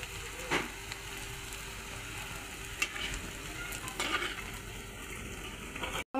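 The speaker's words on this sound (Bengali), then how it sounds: "আমার বড়াগুলো ভাজা হয়ে গেছে" Bora dumplings for langcha fry in oil with a soft, steady sizzle and occasional stirring scrapes, fairly quiet, ending in a brief cut.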